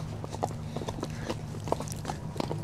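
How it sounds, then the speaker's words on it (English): Horses approach on an outdoor trail, hooves clip-clopping in an uneven rhythm of soft thuds that carry over a steady background hum, with no talk over them. "we got horses coming up here on our right now"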